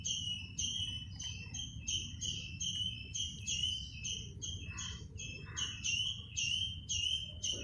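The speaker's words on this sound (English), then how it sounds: "I'm sure you can hear the birds chirping at the back." Birds in a sunny morning garden in Goa chirp in quick, repeated high tweets, a steady run of short calls over a soft low background hum, fairly close and clear with no talking.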